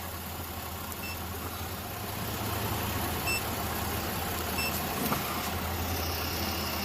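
A 2009 Chevrolet Impala engine runs under test, a low steady hum that grows louder partway through and then holds, with faint clicks on top.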